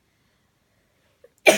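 A person coughs once, abruptly, close by, after near silence and a tiny click, with the cough brought on by allergies.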